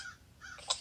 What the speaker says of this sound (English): Wait, the crow is here.